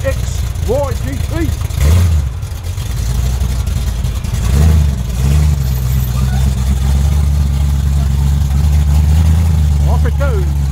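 Ford Falcon XY GT engine idling and revving as the car pulls away on a Sydney street, a steady low rumble throughout with rising rev bursts, while people talk over it.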